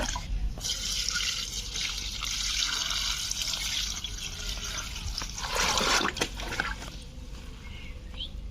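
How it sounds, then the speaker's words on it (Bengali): Red amaranth greens rinsed under a tap at an outdoor washing spot, water splashing and trickling steadily throughout, with a louder gush of running water about two-thirds of the way through. "এখন কলতলায় নিয়ে গিয়ে ভালোভাবে ধুয়ে নেব।"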